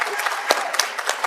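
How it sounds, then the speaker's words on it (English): An audience at a graduation ceremony claps steadily, a dense crowd applause spread through a large hall, loud and continuous without breaks. "another amazing applause for you guys"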